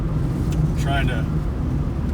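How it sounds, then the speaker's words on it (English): A car comes up from behind on a winding scenic road to Preveli Beach in Crete, heard as a loud, steady engine and road rumble around the vehicle being driven. "I've got a car coming up on me behind"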